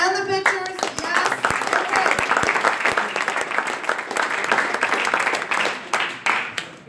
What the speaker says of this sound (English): let's hear the round of applause again for yourselves and the pitchers